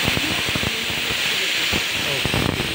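Steam hissing steadily from a pressure cooker of chana on the stove, a broad continuous hiss that stays loud throughout, with faint voices and clinks underneath.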